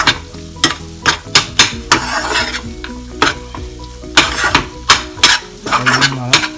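Moong dal halwa is stirred in a hot pan, rhythmic scraping strokes of a spoon repeating every half second or so over a close, steady sizzle, with metallic clinks against the pan.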